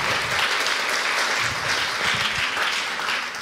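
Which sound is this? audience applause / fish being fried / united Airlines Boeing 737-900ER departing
audience applause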